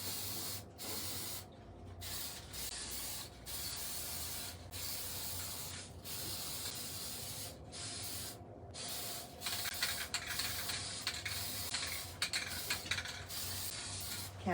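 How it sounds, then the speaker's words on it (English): Aerosol spray paint hisses in long, steady bursts onto a Halloween pumpkin in a cold room, broken by brief pauses and short sharper spurts, close and fairly loud throughout. "I left it open because I'm spraying."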